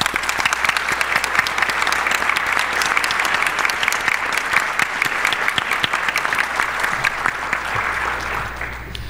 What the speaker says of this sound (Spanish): quisiera pedirles a todos un fuerte aplauso